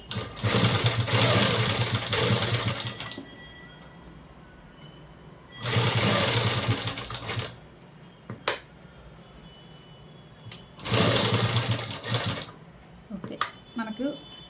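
A sewing machine stitches up to a blouse neck design in three loud bursts of a few seconds each, separated by quieter pauses with faint background sounds and a few brief clicks.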